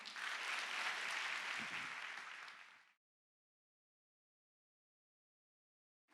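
A chapel audience at a Korean Baptist theological university claps to welcome a guest speaker, a full burst of applause lasting about three seconds before abrupt silence.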